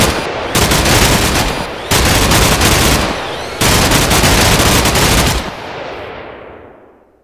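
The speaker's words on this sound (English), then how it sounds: "apparently we killed ourselves with our own minigun" A minigun in the Minecraft Flans Mod game fires in three long, loud, continuous bursts of rapid shots separated by brief pauses, the last burst fading into a decaying echo.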